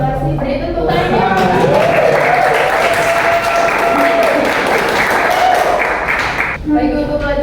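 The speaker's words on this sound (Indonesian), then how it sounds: "Beri tepuk tangan." Students in a classroom give a round of applause, a dense continuous patter of clapping lasting several seconds, with voices talking over it at the start and end.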